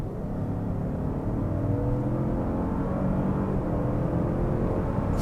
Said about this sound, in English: the engine really provides V8-like power. And I like the sound.